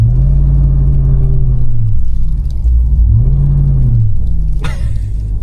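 Ram TRX pickup truck engine driving through deep blizzard snow, a loud close low rumble with rising and falling rev swells and a brief sharp knock near the end.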